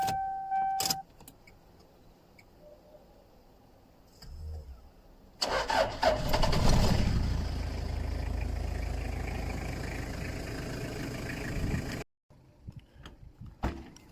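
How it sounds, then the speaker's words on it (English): A car engine cranks and catches after a few quiet seconds with a faint jingle of keys, then idles steadily and loudly before cutting off abruptly. "I started a car."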